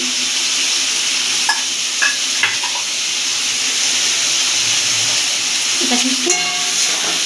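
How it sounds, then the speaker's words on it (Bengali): Chopped potato and onion frying in oil in a pan, a steady close sizzle broken by a few clinks and scrapes of stirring. "এটাকে একটু ভাজা ভাজা করে নেব।"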